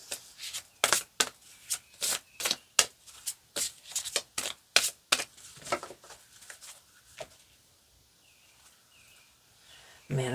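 A deck of cards is riffled repeatedly in quick, crisp bursts, close and fairly loud, settling into quieter handling before stopping.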